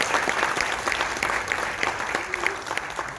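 An audience at a regional Korean medicine association general assembly applauds for introduced guests, a sustained dense patter of clapping with a faint voice underneath.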